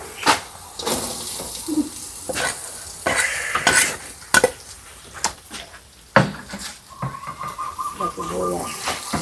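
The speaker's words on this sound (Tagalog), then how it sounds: "Kulay brown mo yung bawang mo." Garlic sautéing in a pan for pansit, sizzling under frequent clanks of a utensil scraping and stirring against the pan, with intermittent voices talking nearby and a faint bird call.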